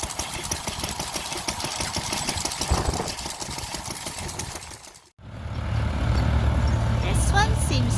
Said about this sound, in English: This is a one stationary engine driving a water pump.